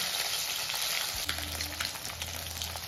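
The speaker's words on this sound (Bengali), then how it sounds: "এখন আমি মাছগুলোকে একটু ভেজে নেব।" Pieces of katla fish fry in hot oil in a pan, giving a steady, close hiss with a brief clunk partway through and a low hum under the sizzle.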